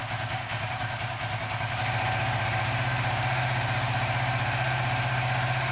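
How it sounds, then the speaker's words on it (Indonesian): Suzuki FU 150 FI motorcycle engine with a standard fuel injector idling, a steady low putter throbbing evenly and close up throughout. "Ini RPM idle untuk standar, injektor standar."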